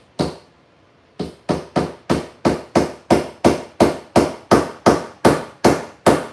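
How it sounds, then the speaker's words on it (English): A big hammer strikes fifteen sharp, evenly spaced blows, loud and close, after one opening hit and a short pause, with no talking. "A little hammer, but I like to use the big hammer."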